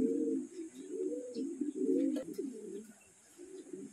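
Racing pigeons arriving home at the loft after a race from Atimonan, Quezon, coo steadily and softly in overlapping low rolls, close by, with a faint high hiss behind them.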